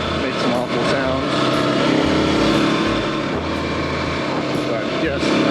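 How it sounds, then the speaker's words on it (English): A Kawasaki KLX300 dirt bike's engine revs loudly nearby with missed gear shifts, its steady roar breaking into abrupt dips and surges as the revs flare and drop. "it's a little hard to not miss shifts sometimes. Some awful sounds."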